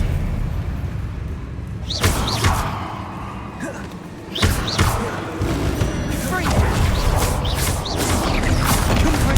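Spell casts in Hogwarts Legacy combat: repeated whooshing bursts and heavy thuds and crashes land every second or two, loud and busy, with a voice shouting spell names over them.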